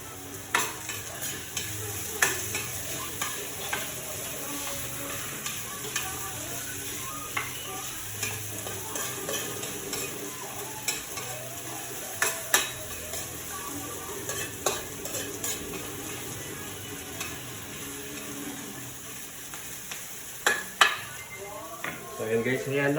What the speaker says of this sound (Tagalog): hayaan lang muna natin na lumambot ng konti ang sibuyas tsaka ang bawang